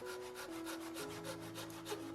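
Wooden toilet paper hanger having its edges hand-smoothed with a file and sandpaper, a steady close scratchy rubbing with continuous back-and-forth strokes and no talk.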